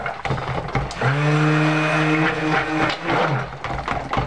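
A stick blender whirs steadily through pumpkin-scented cold process soap batter for about two seconds, a loud close hum that starts and then cuts off, with brief clatter before and after.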